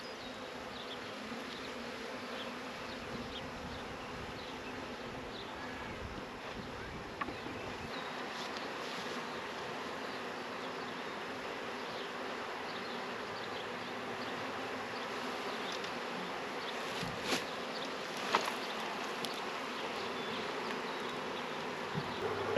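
A honeybee swarm gathering near a hive box on a farm, a loud, steady, dense buzzing hum that holds throughout, with occasional faint bumps and wind noise and no talking.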